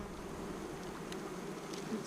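Honey bees buzz around a hive during robbing after an inspection, a dense, steady droning swarm with no talking.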